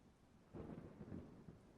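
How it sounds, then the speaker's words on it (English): A thunderstorm in the video game Microcivilization, a brief soft rumble of thunder over steady rain-like hiss, faint and short. "All right, we're almost through the storm."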